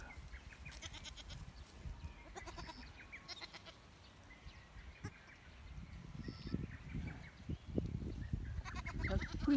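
A goat bleating in a long-grass field, where a mother goat and her two-day-old kid graze, with faint scattered bleats over a low rustling, rumbling background that grows louder toward the end.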